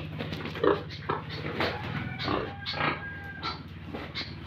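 Boar pig grunting on a farm, with a few short, low, rough snorts and grunts at close range over soft background noise and faint voices.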